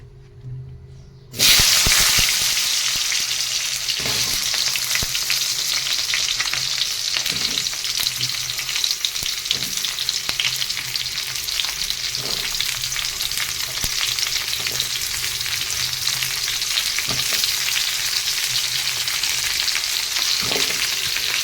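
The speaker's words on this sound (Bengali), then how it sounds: "মাছ ভাজার তেলেই এবার আমি খুব সুন্দর করে সবজিগুলো সব দিয়ে ভালো করে ভেজে নেবো" Mixed vegetables dropped into leftover fish-frying oil burst into a loud, close, continuous sizzle, with occasional stirring clicks over the steady hiss.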